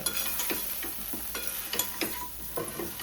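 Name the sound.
eggplant and mango curry sizzling while stirred in a pan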